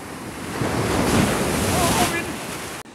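Ocean surf washing onto a Cuban beach, a steady broadband rush of breaking waves with wind buffeting the microphone, loud and continuous before cutting off abruptly near the end.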